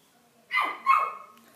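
A small dog gives two quick barks in a row, close and fairly loud, with a quiet room around it and no talking.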